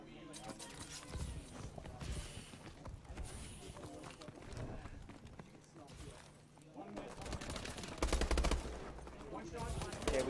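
Gunfire fills a competitive online video game match in a gunfight-heavy mode. Rapid bursts and repeated shots rattle at low volume throughout, mixed with game effects and busy background sound.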